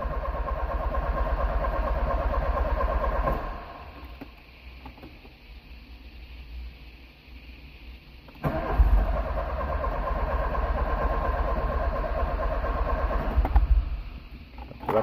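Modified race car engine on original MI fuel injection with reworked injectors, idling loud and close with a rough mid-range drone. It dips to a quieter level partway through, then returns to a full steady rumble.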